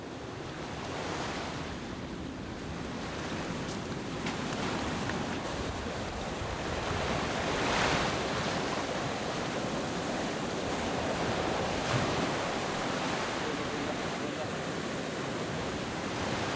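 Ocean surf rolling and breaking onto a sandy beach where sea turtles nest, a steady broadband wash with gentle swells and no voices, loud and close throughout.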